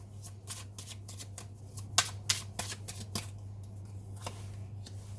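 Tarot cards are shuffled and drawn in a rapid run of crisp riffling snaps and flicks, a few sharper slaps standing out, close and clear over a steady low hum.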